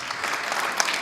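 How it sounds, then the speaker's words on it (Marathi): A crowd at a devotional kirtan performance breaks into brisk, sustained applause, with many hands clapping at once, heard close and fairly loud throughout. "टाळी वाजवा"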